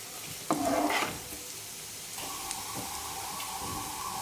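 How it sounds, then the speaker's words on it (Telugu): Chopped garlic frying lightly in a pan for a garlic chicken dish: a soft steady sizzle with a brief louder burst of stirring early on, then a continuous mild hiss, no voices. "చాప్ చేసి పెట్టుకున్న గార్లిక్ వేసేసి 1 నిమిషం పాటు లైట్గా కొంచెం వేగనివ్వాలి."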